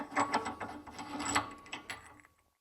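A VÖLKEL thread repair tool is turned through the M14 thread of a wheel bolt, giving close, uneven metallic grinding and scraping that fades out toward the end.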